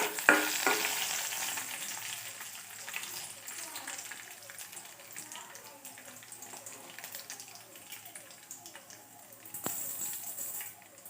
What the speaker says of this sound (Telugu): పోపు దినుసులు అన్నీ వేసుకొని బాగా వేయించుకోవాలి